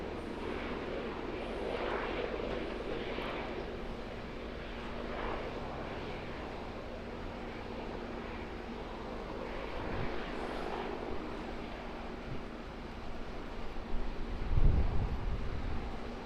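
At Auckland Airport, a Barrier Air Cessna 208 Grand Caravan and a Singapore Airlines Airbus A350-900 prepare for departure, aircraft engines droning faint and distant in a steady background hum that swells slightly near the end.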